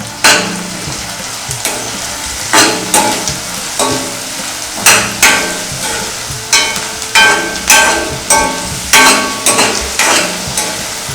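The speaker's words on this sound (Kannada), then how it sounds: "ನೋಡಿ ಇವಾಗ ಈರುಳ್ಳಿ ಬೇಯ್ತಾ ಇದೆ." Onions frying in a pan as the base for a chicken gravy, a steady close sizzle broken by repeated bursts of louder crackling and stirring scrapes throughout, with no talking.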